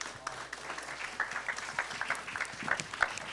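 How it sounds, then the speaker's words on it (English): Applause from an audience at a panel discussion on gun violence, a fairly quiet, continuous patter of clapping heard from a distance with a few sharper claps standing out. "Let's give them another round of applause."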